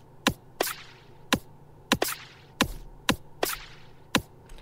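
Punchy electronic drum hits in Bitwig, run through a transient split with the decay turned down, so each strike is short and clipped. They come in a steady, dry pattern of about nine snappy hits, close and alone.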